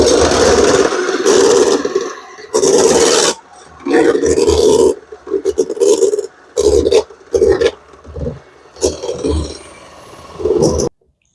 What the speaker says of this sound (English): I've got my cold evaporated milk in a cold bowl. I'm going to mix it on high.